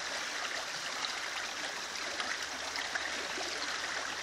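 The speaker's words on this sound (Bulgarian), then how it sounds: "Изтича реката, да." River water flows steadily in a continuous broadband rush, close and fairly loud, with no voices over it.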